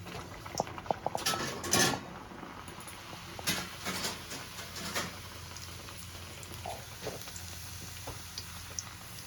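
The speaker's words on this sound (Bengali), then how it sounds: "এবার আমি গরম তেলে দিয়ে দেবো" Pea-filled kachori (koraishutir kochuri) fries in hot oil in a pan, a steady bubbling crackle with scattered pops, louder at first and settling into a softer continuous sizzle, heard close and without talking.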